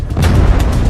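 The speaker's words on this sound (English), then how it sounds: "The Decepticon warp cannons!" Decepticon warp cannons fire in the Transformers: Fall of Cybertron video game, loud rumbling booms with several overlapping blasts in quick succession over a second.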